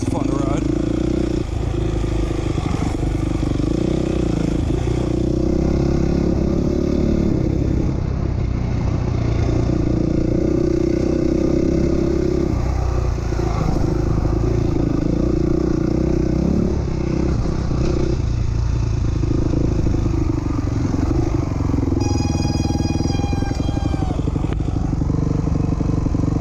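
Dirt bike ridden around a motocross track with berms, engine droning loud and close throughout with rising and falling revs, a burst of clatter and a rattle near the end.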